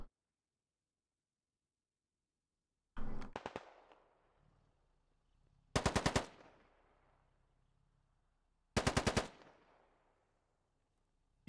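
Insurgent fighters in a first-person shooter fire three separate bursts of rapid automatic gunfire, each a few seconds apart. Every burst is loud and clipped, with a fading echo, and there is near silence between them.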